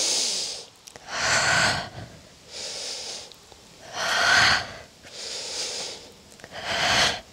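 Deep, audible breaths during a yoga stretching sequence, five long exhale and inhale sweeps in a slow even rhythm, close and clear with no talk over them.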